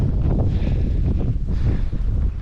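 Strong gusting wind in a winter snowstorm in Canada, a loud, close roar buffeting the microphone throughout, with no talk.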